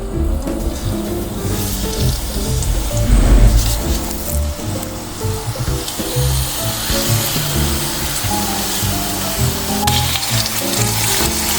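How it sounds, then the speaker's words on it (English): Skin-side-down chicken pieces sizzle and crackle steadily in hot oil in a frying pan, a dense continuous frying hiss with scattered pops, close and fairly loud. "Now once you put it in the frying pan,"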